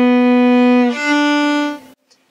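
A violin plays two sustained up-bow notes, the second slightly higher, loud and close, ending cleanly in silence.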